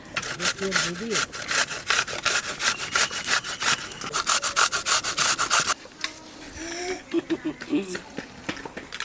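Taro root is scraped with rapid, rhythmic rasping strokes, loud and close, pausing partway before resuming more sparsely while a voice talks underneath.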